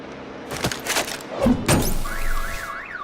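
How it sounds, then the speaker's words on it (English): A car alarm in a Batman video game, set off by a bat stunner: a few dull thunks, then a rising-and-falling electronic warble that cycles steadily. "My bat stunner would set off the car alarm"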